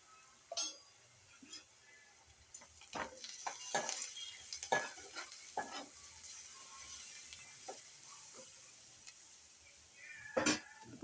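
Ginger, garlic and turmeric stirred and fried in a pan for a spinach and amaranth curry, with intermittent scraping spatula strokes and clinks over a soft, quiet sizzle.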